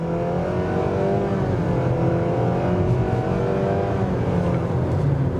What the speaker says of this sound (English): That sounded like a couple of gear shifts there.